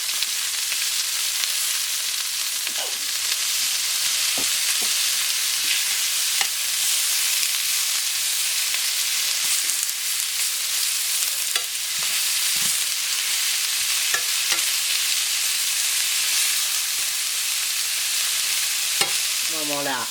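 Shallots sizzling in a hot pan for a pork cheek dish, a steady close hiss of frying with occasional stirring clicks and scrapes and no voices.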